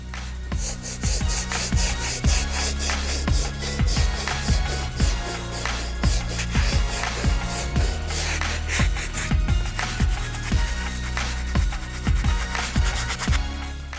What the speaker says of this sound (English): I'm gonna go ahead and hit it up, like I said, with the stiff bristle brush and see if these little paint speckles hold up